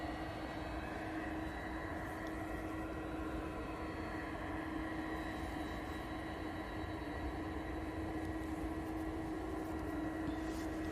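Two Boeing Dreamliners departing runway 23 right at Manchester Airport, a steady, distant jet roar with a constant droning hum that holds unchanging throughout.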